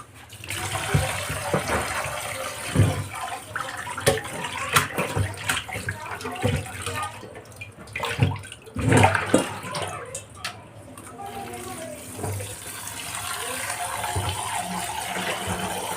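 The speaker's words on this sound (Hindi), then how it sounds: "हम कीमा धोना देख लेते हैं" Water running and splashing while minced meat (keema) is rinsed by hand in a kitchen, an uneven stream with intermittent sloshing bursts, close and fairly loud, with no talking.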